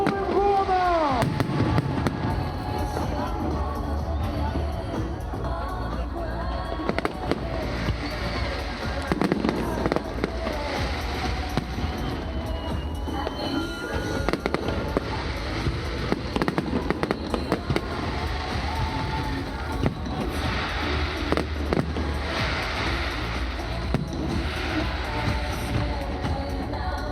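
New Year 2026 fireworks salute over Almaty, Kazakhstan: a dense, continuous barrage of loud crackling bursts and booms from nearby, layered throughout with a few voices in the background.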